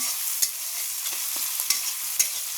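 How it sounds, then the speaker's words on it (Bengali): Chopped onions fry in hot oil in a pan for a koi fish curry, a steady close sizzle broken by several sharp scraping strokes of stirring, with no voices. "পেঁয়াজগুলো দিয়ে দেব। এখন ভালো করে নাড়াচাড়া করে"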